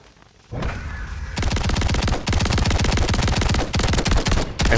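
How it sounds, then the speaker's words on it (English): A full-auto shotgun in a video game, fired by a player with a 60-round magazine. After a brief lull it lets off a long, loud, rapid stream of close shots with only short pauses. "I'm just pre-firing everything, because I know he had the exact same shotgun with a shield."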